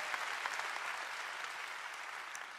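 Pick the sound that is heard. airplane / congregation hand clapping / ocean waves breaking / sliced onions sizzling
congregation hand clapping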